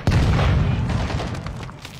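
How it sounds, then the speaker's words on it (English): A stun grenade detonates in a first-person shooter game: one loud, close, broadband boom that rolls on and slowly fades over about two seconds. "Throwing stun grenade."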